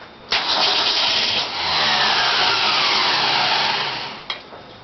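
An old car engine cranks and catches, then roars loudly at a steady high idle for several seconds before cutting off abruptly near the end.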